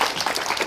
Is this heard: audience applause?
yes